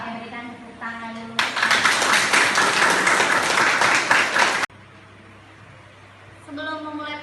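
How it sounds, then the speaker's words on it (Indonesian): A classroom of students bursts into lively applause for about three seconds, dense and even, before stopping abruptly, with the teacher's voice speaking before and after the clapping. "berikan tepuk tangan dulu."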